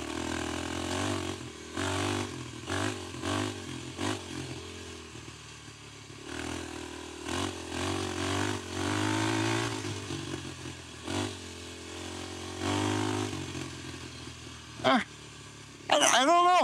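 A Kawasaki KLX300 dirt bike engine bogs down around 4,000 RPM with no secondary plate, its rough, uneven motor note rising and sagging in repeated bursts up close, with a sharp higher rev near the end.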